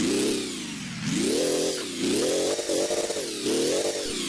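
A homemade, improved piston-powered combustion engine runs loud and close, with a rough, steady mechanical drone that rises and falls in pitch as the speed surges and dips. No one speaks.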